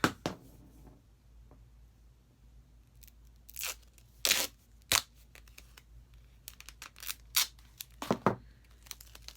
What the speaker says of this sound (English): And then take some duct tape.